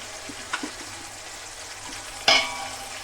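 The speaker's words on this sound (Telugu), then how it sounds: "ఇప్పుడు చికెన్ వేస్తున్నా ఆయిల్లోను, మంచి ఉడకాలి కదా అందుకని" Marinated chicken frying in oil for dum biryani makes a soft steady sizzle close by, with a couple of faint clicks and a louder hissing surge near the end.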